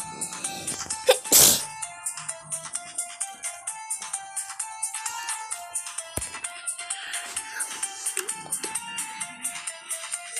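A single sharp sneeze bursts out near the start, close and loud, while a looping phone ringtone melody plays steadily throughout.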